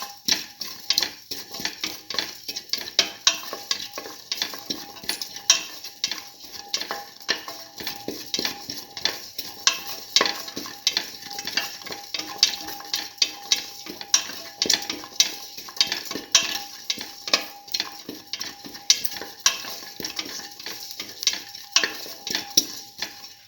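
Tomato, split pigeon pea stew ingredients being sautéd in a pan, a steady faint sizzle with frequent clinks and scrapes of a utensil stirring against the pan throughout.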